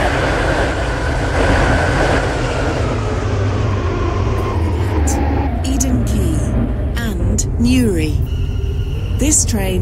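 A train rolls along with a rumbling, rushing drone in the Roblox rail game SCR (Stepford County Railway), a three-coach service, fading in the second half as brief electronic tones and squeaks come in.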